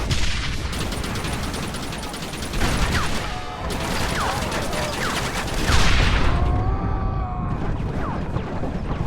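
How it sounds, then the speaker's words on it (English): Heavy cannon and gun fire in the Western game Red Dead Redemption, a loud continuous barrage of blasts, crashes and clanking mechanisms with ricochet-like whines, rolling on throughout. "Use the cannon!"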